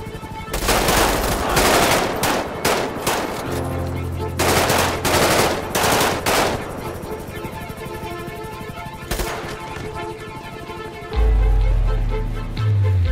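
Rapid bursts of automatic gunfire in a GTA 5 zombie survival game crackle in dense volleys, with a few pauses between, then a low rumble swells near the end.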